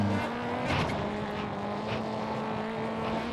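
A rally car in WRC 3 on a Finland stage races flat out, its engine holding a steady high drone with faint tire noise, loud and continuous throughout.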